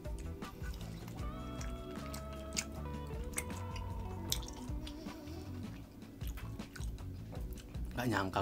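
Someone chews a bite of a large tomahawk beef steak close to the microphone, with soft wet, steady mastication sounds and occasional ticks continuing for several seconds.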